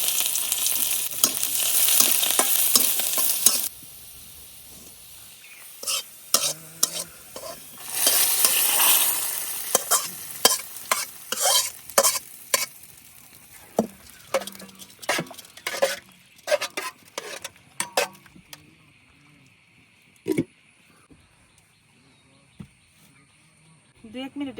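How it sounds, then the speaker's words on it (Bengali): Chopped garlic and dried red chili tempering in hot mustard oil, a loud hiss and crackle at first, then bursts of sizzling and stirring clatter that fade into sparse clinks, with a voice speaking over parts of it. "একটু সরিষার তেল দিয়ে বাগার দিয়ে নেব, শুধু রসুন দিয়ে দিয়ে দিতেছি সরিষার তেল, শুকনো মরিচ, রসুন কুচি"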